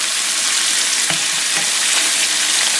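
Pork chops sear in a hot pan over just under medium-high heat, giving a loud, even hiss with a couple of faint taps, close up and without speech.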